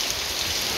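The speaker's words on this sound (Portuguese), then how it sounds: "Começou essa chuva." Steady rain pours down in Maracanaú, Ceará, Brazil, in a dense, continuous hiss, close and loud, with no voices.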